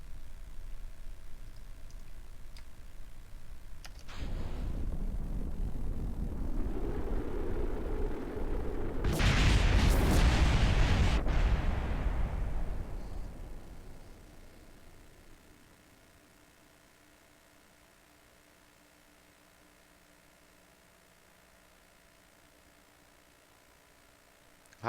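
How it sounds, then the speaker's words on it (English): Rocket craft in Kerbal Space Program racing down the runway until it explodes: an engine roar builds for several seconds into a loud, crackling blast peak, then tails off to near silence. "Run it hard down the runway until it explodes"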